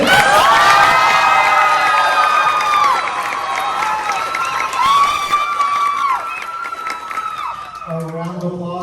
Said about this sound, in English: How about a round of applause for Miss Nevin?